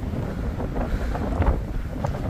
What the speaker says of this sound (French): Belle vue, mais alors un vent les amis.